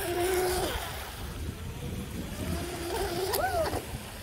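Traxxas 380 fast electric RC boat running on water, a thin motor whine rising and falling as it passes at a moderate distance over steady background noise, with a brief louder surge near the end.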